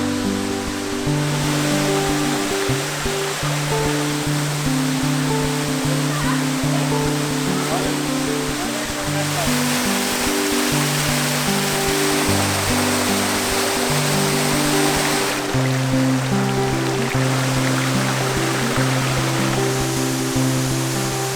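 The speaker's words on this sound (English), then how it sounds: "voila, massive waterfall. Big drop." Waterfall at Nant Bwrefwr in the Brecon Beacons, a big drop over rocky steps, giving a steady, loud broadband roar of falling water throughout, with a low rumbling tone running underneath.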